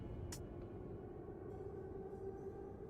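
A video game train rumbles quietly and steadily, with a short hiss near the start and a faint, continuous low rolling sound.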